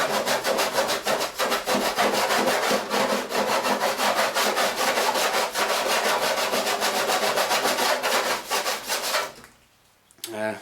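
Rapid rough back-and-forth rasping of a tungsten carbide sanding block scraping burrs off metal, steady and loud, stopping abruptly near the end.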